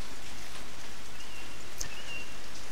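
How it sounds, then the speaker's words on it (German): Rainforest rain in the video game Wildlife Park 3 hisses as a loud, steady wash with no break, and a faint bird call briefly rises above it. "wir sind hier auch gerade voll im Regenwald"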